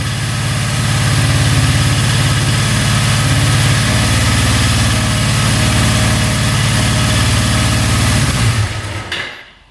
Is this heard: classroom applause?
no